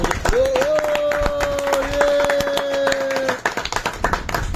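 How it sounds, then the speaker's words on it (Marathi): A group of friends on a picnic trip at Kihim Beach, Alibag, claps loudly and steadily for the organiser, with a sustained whistle-like tone running over the applause before the clapping thins out. "त्याच्यासाठी जरा जोरदार टाळ्या वाजवायच्या"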